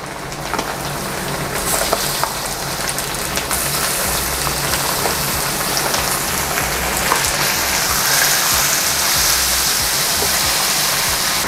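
Onion and garlic sautéing in a pan before pork is added, a dense continuous sizzle and crackle, close and steady throughout with small pops.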